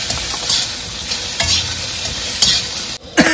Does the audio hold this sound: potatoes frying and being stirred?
yes